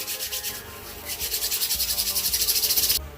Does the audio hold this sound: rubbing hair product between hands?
yes